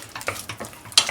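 Strawberry jam stirred in a pan over low heat, a few short soft scraping strokes in quick irregular rhythm, close and quiet, with a faint bubbling sizzle between them.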